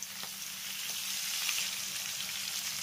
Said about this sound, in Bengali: এইভাবে প্রথমে এঁচড়টাকে হলুদ আর লবণ দিয়ে একটু ভেজে নিলে এঁচড়টার কালারটা কিন্তু খুবই সুন্দর আসবে।